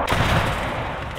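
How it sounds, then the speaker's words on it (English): A tank cannon fires another round in the Gates of Hell war game, a single heavy blast with a booming roar that rolls on and decays over about a second. "Pump another round in just in case."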